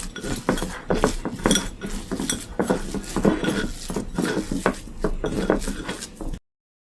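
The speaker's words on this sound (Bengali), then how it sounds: "একটু ভালো করে মাখাই নি, সরিষার তেলটা যেন সব কচুর ভিতরে যায়" Mashed taro is worked together with mustard oil in a dish, a steady run of rhythmic clinks and squishy taps from a utensil against the plate, close by and continuous.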